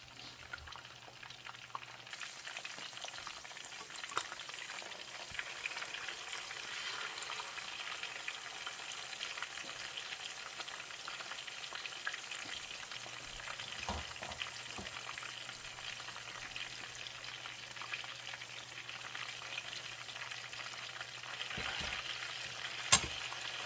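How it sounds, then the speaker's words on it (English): Steady crackling sizzle of chicken frying, close and continuous, with scattered pops and occasional clinks over a constant hiss and no voices. "now that we've gotten done frying all the chicken"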